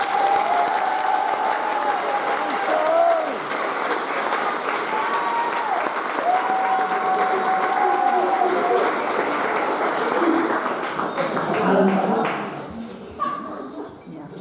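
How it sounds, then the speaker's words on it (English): A room full of people at an awards presentation claps in sustained, dense applause that tapers off toward the end, with a few voices audible near the close. "and Sharon and the Queenspark Women's Group a very, very, very well-deserved and hearty round of applause"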